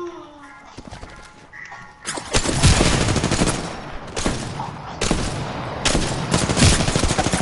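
Video game gunfire crackles in repeated bursts, rapid volleys and fusillades rising sharply after a quieter opening, with a voice talking faintly underneath.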